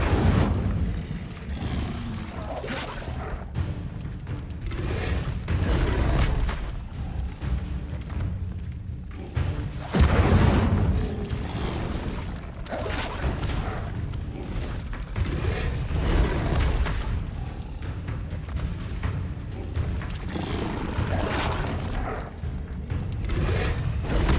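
Incendio fire spells cast in Hogwarts Legacy: continuous whooshing, roaring bursts of flame with low thuds, dense and loud throughout.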